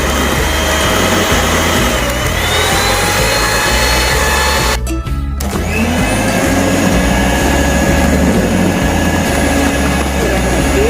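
An electric mixer beating coconut cake batter until pale, a loud continuous motor whir close by with a brief dropout midway before it resumes, and a voice talking faintly underneath.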